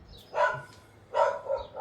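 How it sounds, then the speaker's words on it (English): Dogs bark around a house, two distinct woofs about a second apart followed by a softer third, moderately near over a quiet background hum. "There's too many dogs barking around my house"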